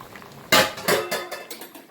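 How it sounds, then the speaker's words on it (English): Boiling water splashes into a pot of Jamaican curry goat, arriving as a few close, sharp bursts of pouring and sizzling along with a light clatter of the pot. "now we're gonna add some boiling water to the goat"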